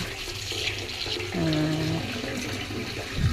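Running water from a tap or shower rinsing a pet dog during a bath, a steady splashing flow close by, with a brief squeak midway and no talk.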